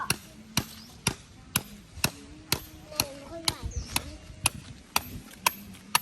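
Steady hammer blows strike a tent peg while pitching a tent, about two per second, sharp and close, with faint voices murmuring in the background.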